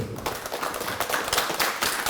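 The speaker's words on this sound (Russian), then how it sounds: "Аплодисменты бойцам на этот огненный поединок" An audience at a kickboxing event claps for the fighters after a bout, a short stretch of dense, moderately distant applause mixed with arena noise.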